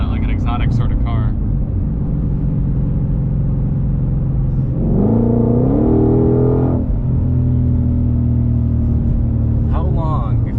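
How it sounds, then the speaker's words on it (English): A 2021 Ford Mustang Shelby GT500 pulls hard with a loud, deep engine roar, its pitch climbing and dropping through gear shifts mid-clip, heard from inside the car with a voice talking over it. "The shifts do kind of sound exotic."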